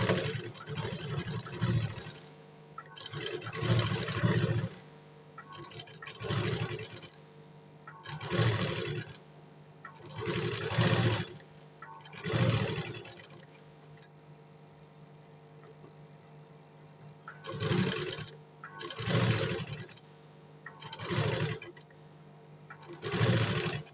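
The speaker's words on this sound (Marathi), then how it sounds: "तर आपण आता ह्याच्यावरती शिलाई मारून घेऊया." A sewing machine stitches around the back neck of a blouse in repeated loud bursts of rapid mechanical whirring, each a couple of seconds long and separated by short pauses, with no one speaking.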